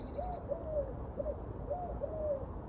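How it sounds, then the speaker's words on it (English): Birds call outdoors on a cold snowy village morning, a string of soft repeated hooting notes at a moderate distance, evenly spaced over a quiet background. "You can hear the birds out this morning."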